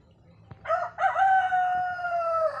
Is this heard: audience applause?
no